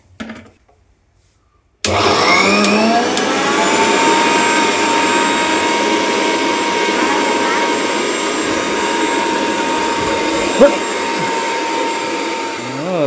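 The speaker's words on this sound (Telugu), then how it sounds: "ఈ మిక్సీ గిన్నె దీంట్లో వేసి మిక్సీ గిన్నెని కాల్చేసింది ఝాన్సీ" A home kitchen mixer grinder grinding chili powder starts abruptly after a short quiet moment, then runs as a loud, steady, high-pitched motor whine with a brief clunk near the end.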